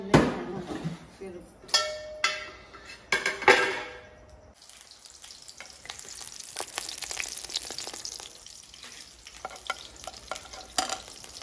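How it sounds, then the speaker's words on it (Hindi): Chopped onions hitting a hot pan set off loud bursts of stirring and clatter, then a dense, continuous sizzling fry that crackles up close. "प्याज जो है ना हमने अल्हम्दुलिल्लाह काट लिया और भुनाई करने के लिए जो है ना खड़े मैंने कर दिए।"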